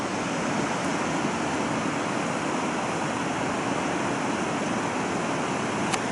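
A river flowing through a snowy valley gives a steady, even rushing hiss that sounds moderately distant and constant throughout, with no voices.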